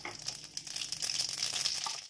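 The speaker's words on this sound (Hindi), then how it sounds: "ये तेल हमारा गर्म हो गया है, इसमें हम अब ये जो हमने राई ली हुई थी ये डालेंगे" Mustard seeds sizzling and crackling in hot mustard oil in a kadhai, a steady close hiss with fine popping spread across the whole moment, no voices.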